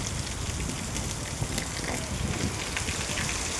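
Steady rain with gusting wind, a dense continuous hiss of drops on surfaces, close and fairly loud, with no voices.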